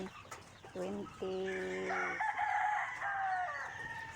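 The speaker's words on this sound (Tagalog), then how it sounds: "So ito yung mga sisiw namin." Young chicks and grown chickens in a backyard coop cluck and call close by, with a rooster-like crowing rise and several overlapping bird voices; a person speaks faintly underneath.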